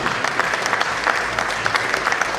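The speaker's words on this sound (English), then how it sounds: "A round of applause for the Lord, please." Audience applause in a hall during a bar association law week event, a sustained, even patter of many hands clapping at moderate loudness.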